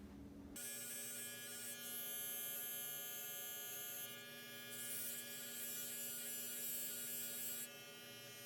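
Electric hair clippers running steadily while cutting a fade, a close, continuous buzzing hum that starts abruptly and keeps a constant pitch with slight shifts in intensity.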